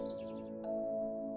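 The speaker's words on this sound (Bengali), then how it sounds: "পাখির কিচিরমিচিরে ভরা বাতাস।" Birds chirp in an animated Bangla village scene on a peaceful morning, a few quick high tweets at the start that fade under a steady musical drone.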